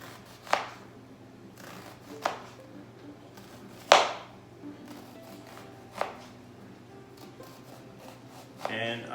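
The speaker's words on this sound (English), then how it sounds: "I'm just going to chop up my onion" A knife chopping a large yellow onion on a cutting board, heard as about six sharp, well-spaced cuts close up, with a faint low hum between them and no talk over them.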